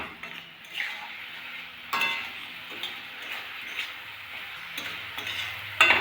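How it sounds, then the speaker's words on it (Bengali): Onion, garlic and ginger paste with turmeric, cumin, coriander, chilli powder and salt are sautéed in a pan for a tangra fish curry, a quiet sizzle broken by intermittent metal spatula scrapes and clinks against the pan, with no voices. "হলুদ, জিরের গুঁড়ো, ধনের গুঁড়ো, লঙ্কার গুঁড়ো আর লবণ সব দিয়ে কষিয়ে নেব।"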